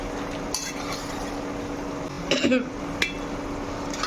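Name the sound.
stirring chicken liver roast in a pan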